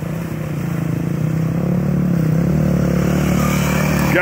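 A motorcycle engine is held on the throttle while crossing a creek, giving a close, steady revving drone that swells slightly toward the end.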